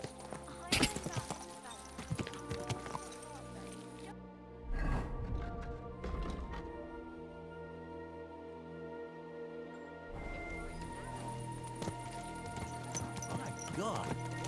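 Horse hooves clip-clopping in the medieval game Kingdom Come II, a rhythmic run of fairly close hoofbeats mixed with music and ambient game sound, with a voice talking over parts of it.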